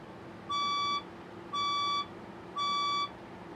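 Fire alarm sounding in a building ahead of an evacuation announcement, three loud steady electronic beeps in an even rhythm, each about half a second long, over a quiet background hum.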